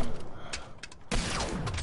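Hand cannon fire in a solo match of a shooting video game, with loud, dense bursts of shots and a harsh blast partway through, over game noise.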